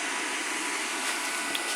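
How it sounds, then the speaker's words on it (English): Cooling fan of a Bestarc BTC500DP plasma cutter left running after use, giving a steady broadband whir that stays even and unbroken throughout, close by and with no talking over it. "leave it on, let the fan run after you've used it for a few minutes"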